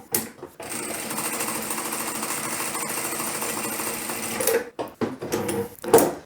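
A ProSew PS-1987A industrial lockstitch sewing machine runs an automatic cycle: a brief burst, then a steady rapid mechanical chatter of stitching for several seconds, ending in short stops and starts as it finishes, close and loud with no talking.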